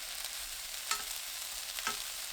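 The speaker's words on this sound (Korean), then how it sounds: "중불로 줄이고 황태채 넣어 2분 30초 볶아주세요" Dried pollack strips are stir-fried in a pan over medium heat, giving a quiet, steady sizzle with two brief scraping stirs and no talking.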